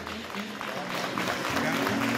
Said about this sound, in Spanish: Los aplausos para ellos.